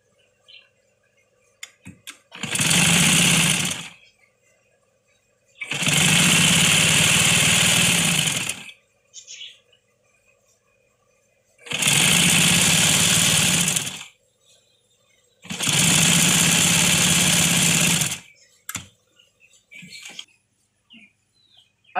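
A sewing machine stitches a doubled fabric strip about three inches wide for a dupatta. It runs in four loud, close bursts of steady whirring, each two to three seconds long, separated by quiet pauses with faint handling clicks.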